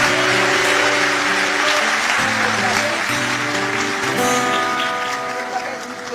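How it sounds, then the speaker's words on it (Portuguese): Applause from a church congregation at a worship service, a dense, steady wash of clapping that holds throughout and eases off slightly near the end. "Você pode aplaudir Jesus?"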